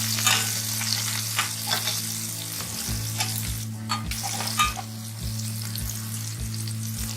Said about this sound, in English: And now we will be adding the chopped green chilies.